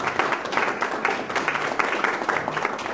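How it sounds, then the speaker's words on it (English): An audience applauds after a presentation, a brief, steady patter of many hands clapping at moderate volume with no voices. "let's give Wayne another round of applause"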